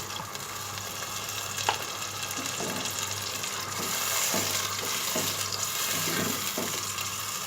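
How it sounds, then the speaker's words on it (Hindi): A cup of water poured into a pan of sizzling beef pasanday gravy, a low bubbling hiss with faint splashes and stirring clicks, fairly quiet throughout. "ये 1 कप हम इसमें अभी पानी डाल रहे हैं।"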